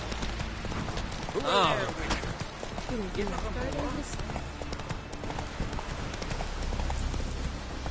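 Horse hooves clip-clop at a gallop in the video game The Witcher 3, a steady rhythmic beat with a rider's brief voice and vocal sounds over it.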